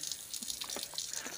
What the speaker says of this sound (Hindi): ये है हमारा पानी का नल